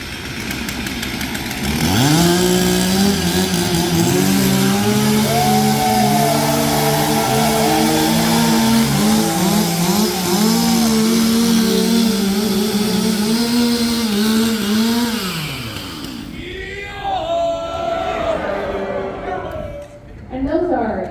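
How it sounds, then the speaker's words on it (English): Stihl 362 chainsaws rev and warm up together at an Alaskan lumberjack show outdoors, loud buzzing two-stroke engines droning with shifting pitch, then dropping to idle and revving again, with a voice talking over them. "let's warm up those chainsaws"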